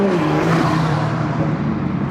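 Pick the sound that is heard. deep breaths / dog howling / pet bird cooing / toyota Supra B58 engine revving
toyota Supra B58 engine revving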